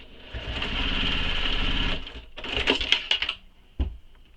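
A sewing machine bastes a handbag seam open, a close, brisk whir lasting under two seconds, followed by clicks and a few short mechanical bursts.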